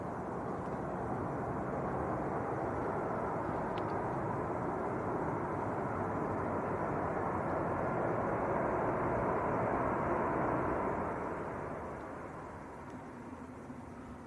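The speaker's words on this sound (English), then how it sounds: "the first one just touching down is Jet 2 from Parma" A Jet2 airliner touching down at Manchester Airport, heard as a broad, distant, steady roar that holds for several seconds and then fades away.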